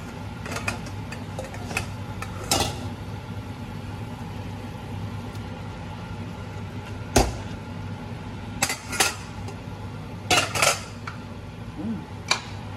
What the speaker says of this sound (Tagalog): Halo natin yung pansit.